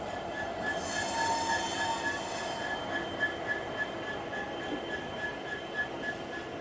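The Poorvottar Sampark Kranti Express pulls into Guwahati railway station, its wheels squealing in a high, sustained screech over a close, continuous rail rumble and clatter.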